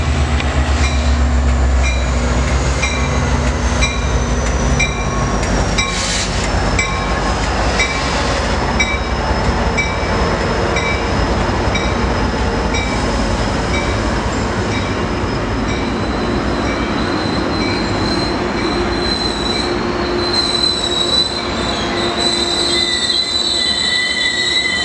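A long freight train rolls past close by in Fullerton, wheels squealing and grinding steadily on the rails with a continuous heavy rumble and metallic screech throughout.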